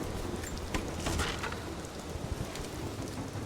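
Steady rain falls in the video game Rise of the Tomb Raider, a continuous broadband hiss of drops on surfaces with no voices and a slight swell partway through.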